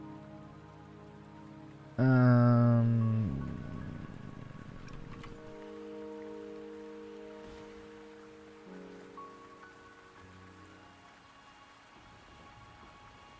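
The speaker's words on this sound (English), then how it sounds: "Don't worry, the rain won't last much longer." Steady rain patters in Wuthering Waves on the way to Mount Firmament, a soft continuous hiss beneath game music that starts with a loud swell; a voice briefly murmurs.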